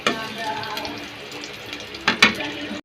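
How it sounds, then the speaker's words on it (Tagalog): Garlic frying in hot cooking oil for Ilocano beef papaitan gives a steady hiss and crackle up close, then a few louder clattering bursts near the end. "Pag mainit na yung mantika, pwede na natin ilagay ang bawang."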